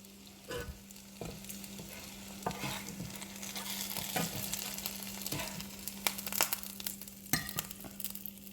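Food frying in hot grease for a meatless casserole, a steady crackling sizzle with intermittent sharp pops and clinks of stirring, close and alone with no talk.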